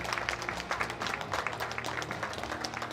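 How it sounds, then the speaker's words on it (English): A crowd at an armlifting championship gives a round of applause, fairly faint and steady, with individual claps peeking through the wash of many hands. "I understand we have a round of applause for our guys up here."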